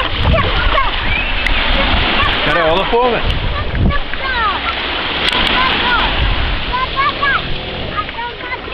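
Sea waves at a beach in Varna, Bulgaria, splash and wash steadily and loudly close by, with people talking and shouting over the surf throughout.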